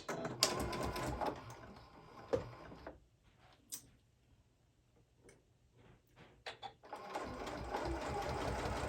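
A sewing machine stitches flannel for a pet sling in short bursts of rapid mechanical whirring and ticking, separated by a quiet pause with small clicks and handling noises before the motor runs again; close, with no speech.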